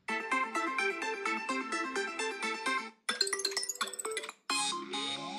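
A tinny phone ringtone plays from a refurbished iPhone XS speaker at maximum volume, a repeating chiming melody that cuts off and switches to other short tones.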